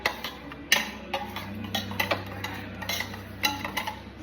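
Chopped omelette ingredients and egg are stirred in a bowl for a Tamil street-style omelette, with steady close ticking clicks of a spoon against the bowl in an irregular rhythm.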